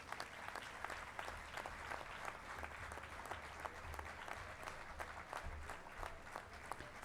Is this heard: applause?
yes